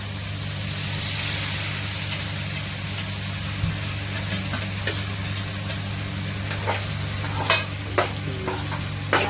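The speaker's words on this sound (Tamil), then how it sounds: "நல்லா ஃப்ரை பண்ணணும்." Paneer pulao ingredients fry and sizzle in a pan, a steady hiss under scattered scrapes and clinks of stirring, close and fairly loud, with no one talking.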